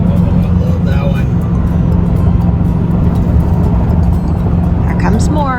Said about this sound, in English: there's a little caravan of these old cars passing us